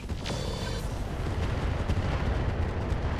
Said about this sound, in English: we hit it with one missile there